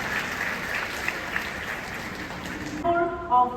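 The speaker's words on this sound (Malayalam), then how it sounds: "നമുക്ക് എല്ലാവർക്കും ഈ കുഞ്ഞുങ്ങൾക്ക് മനസ്സറിഞ്ഞ് നല്ല ഒരു കൈയടി കൊടുത്തുകൊണ്ട് അവരെ" Steady applause from an audience at a school graduation ceremony for young children fills the hall, then cuts off near the end as a voice begins speaking.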